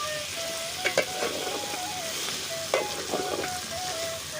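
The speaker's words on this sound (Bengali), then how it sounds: "এটাকে মোটামুটি 2 মিনিট কষা করব।" Chicken curry masala with turmeric sautéing in a pot, a soft continuous sizzle broken by a few clanks and scrapes of stirring.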